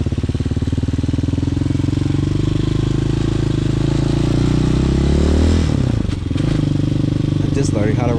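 A Honda Hawk 250cc motorcycle engine runs steadily and loud up close, with a dense low rumble, then a brief dip and shift around the six-second mark before settling again.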